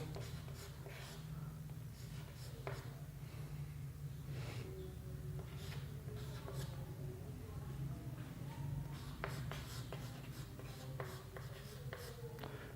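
Chalk or marker writing on a classroom board during a Class 12 physics lesson, a steady run of short scratchy strokes with brief pauses, heard close over a low constant background hum.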